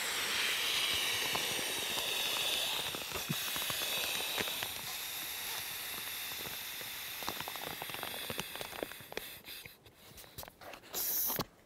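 Breath is blown by mouth into an inflatable camping pillow, a steady close airy hiss that fades in strength over several seconds, followed by brief crinkling handling of the pillow's material.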